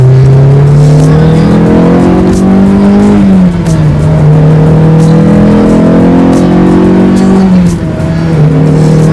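A Honda S2000 drives with a loud, close engine note that holds steady, then drops and climbs again through gear changes. Road and tire noise fill in underneath.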